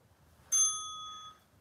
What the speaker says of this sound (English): Keep going till you hear that bell.